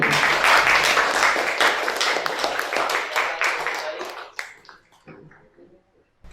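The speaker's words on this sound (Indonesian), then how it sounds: "Semuanya tepuk tangan." School audience at a student council candidates' event claps loudly, the dense applause thinning out into scattered claps and fading to near silence.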